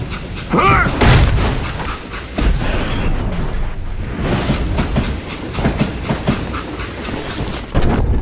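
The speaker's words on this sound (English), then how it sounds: "It was then that Jesse detached the express car from the rest of the damn train." A loud train with an express car rumbles and clatters along the tracks in the video game Call of Juarez: Gunslinger, heavy thuds and metallic screeches breaking through the steady roll.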